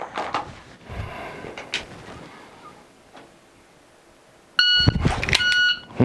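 A shot timer beeps sharply during a dry fire draw drill. Quiet handling and shuffling noises come first, then a loud electronic tone rises and is followed by brief clatter.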